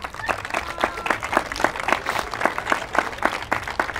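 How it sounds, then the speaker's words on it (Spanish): A crowd claps along at a Mexican clown comedy show, giving a loud, brisk, fairly rhythmic round of applause that holds steady for several seconds without speech. "¡Fuerte las palmas!"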